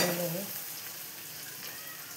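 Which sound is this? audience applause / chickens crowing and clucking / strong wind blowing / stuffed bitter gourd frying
stuffed bitter gourd frying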